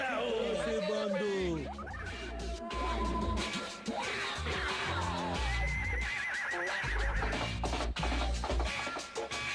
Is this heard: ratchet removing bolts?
no